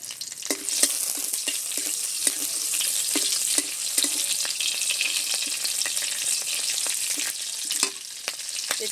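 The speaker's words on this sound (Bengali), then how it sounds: "দুটো তেজপাতা, কাঁচা লঙ্কা, দুটো শুকনো লঙ্কা আর একটু গোটা জিরে ফোড়নের জন্য দিয়ে দিলাম" Bay leaves, green chillies, dried red chillies and whole cumin crackle in hot white oil, a close, continuous sizzle dotted with sharp pops and occasional stirring scrapes, no voices.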